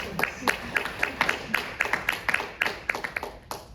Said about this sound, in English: You can give us a round of applause.